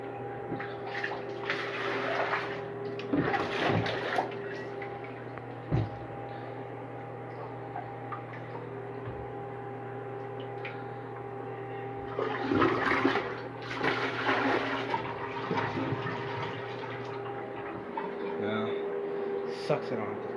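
A 2014 Contrac baby toilet flushes with a loud rushing surge of water, followed by the tank refilling with a steady hiss under a low mains hum, with a second flush burst later on.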